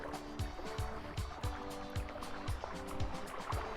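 A dog swims and splashes through water, with rhythmic paddling sloshes and light trickling, close by and moderately quiet, no voices over it.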